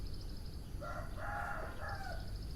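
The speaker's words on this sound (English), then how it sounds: "Not the crows, but the hens and the chickens crowing." Outdoors, a rooster crows once at moderate distance, a clear three-part call rising and falling over steady background rumble, with faint higher bird calls before and after.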